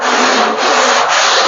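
An 80-grit curved sanding block rubbed over a car fender during bodywork, one loud, close, continuous rasping scrub with a brief dip partway through, no talking.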